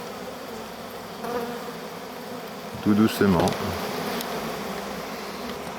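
A honeybee swarm hums steadily as a frame is slowly lowered into a small hive box. The buzzing is low and continuous, and a brief louder stir of bees comes midway while a voice speaks softly.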